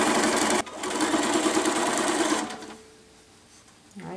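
A sewing machine stitches fabric binding across the end of a bag edge. It runs in a loud, steady, close whir, then stops with a short quiet tail.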